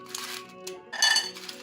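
Chunks of rock sugar drop into a metal pot in a home kitchen, giving a few bright clinks and rattles with one louder cluster near the end, close and fairly clear, with no talking.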